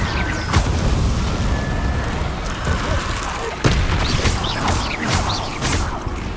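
Fire spell casting in Hogwarts Legacy combat, a constant loud roaring, crackling blaze of game effects with sharp bursts and impacts punctuating the dense, unbroken noise.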